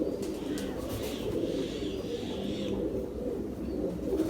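Ferozpuri pigeons, a Ferozpuri male crossed with a Kamgar female, coo steadily and continuously at close range. The low, soft, rolling coos carry on without pause and no voices are heard.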